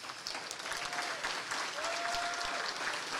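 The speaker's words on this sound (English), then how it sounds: "please stand so we can give you a round of applause" Faint, distant audience applause in a room at a fundraising event, steady scattered clapping from a crowd continuing throughout, with a thin whistle-like tone drifting over it.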